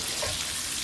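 Cabbage sizzles in bacon in a pan, a close, steady hissing fry with no voices.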